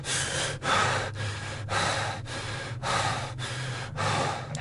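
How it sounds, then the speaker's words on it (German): Heavy, rhythmic breathing from the player character in the indie horror game Inside, a series of strained gasping breaths repeating roughly every half second, close and loud with no talk over it. "Dieses extreme Atmen verrät man natürlich auch immer irgendwas."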